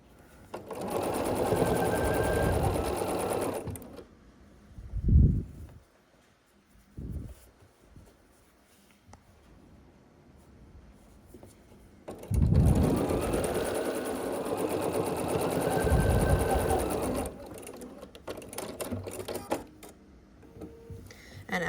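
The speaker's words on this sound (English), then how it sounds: "sew with 1/4 inch seam allowance" A sewing machine stitches quilt block seams in two long steady runs of fast, even mechanical whirring, separated by a quiet pause filled with soft handling thumps of fabric.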